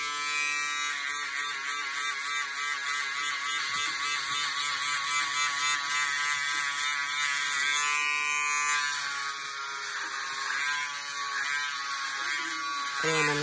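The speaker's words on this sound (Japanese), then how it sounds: "シェーバー入ります。" Electric shaver buzzing steadily close by as it cuts hair for a skin fade at a barber's chair, a loud continuous whine with slight changes in pitch as it moves over the head.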